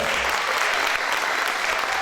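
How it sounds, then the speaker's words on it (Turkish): Audience applauding children at a student certificate ceremony, a steady dense wash of clapping from a crowd filling the whole two seconds at even loudness. "Çocukları bir alkışlayalım öncelikle."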